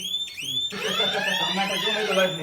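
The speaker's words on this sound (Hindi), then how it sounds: "कभी भी स्टक हो जाए तो ये जो अलार्म है इसको कर देना है" A lift emergency alarm in a high-rise building rings as a loud, steady electronic tone with gliding pitch, starting briefly, dropping out for a moment, then sounding continuously close by.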